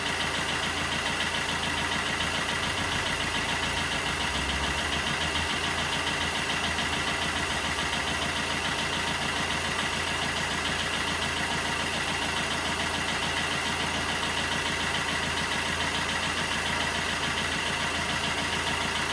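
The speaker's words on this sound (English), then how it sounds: "just warming the engine up now" A Peugeot Bipper 1.3 HDi diesel engine warming up idles steadily and unbroken at an even level, a constant low rumble with a faint ticking texture and no voices.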